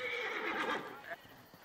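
A horse neighs at an estate in the video game Assassin's Creed Origins, one loud whinny that falls away, with speech present in the scene.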